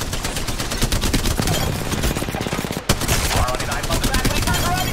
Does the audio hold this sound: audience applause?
no